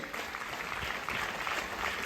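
An indoor audience claps for an arriving guest, a brisk, steady patter of applause at moderate volume throughout.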